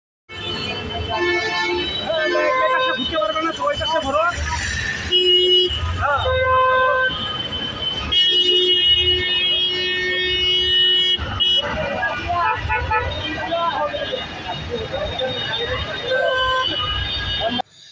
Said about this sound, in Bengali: শহরের যানজট শব্দ সব কিছুই তো শুনলেন